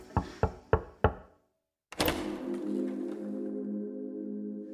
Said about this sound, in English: I hear a knock at my door.